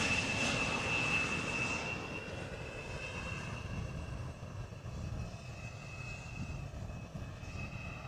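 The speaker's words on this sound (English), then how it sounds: "So that is KLM flight 765. Airbus A330-300 arriving from Bonaire" A KLM Airbus A330-300 lands at Amsterdam Schiphol, its engines a steady broad roar with a thin high whine that slowly fades as it passes at moderate distance.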